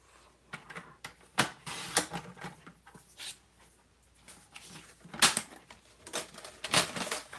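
Sharp, crisp snips of scissors trimming a strip of white paper, several separate cuts in an irregular rhythm, close and fairly quiet with no talking.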